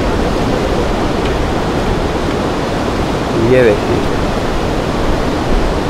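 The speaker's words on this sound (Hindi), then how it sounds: "ये नदी बह रही है, देखिए" The Parvati river in Manikaran rushes below a bridge, a steady broadband roar of flowing water throughout, with someone speaking briefly over it.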